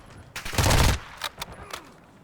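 A short burst of Lachmann Sub submachine gun fire in Call of Duty DMZ, a loud rapid rattle lasting under a second, followed by a few scattered fainter shots.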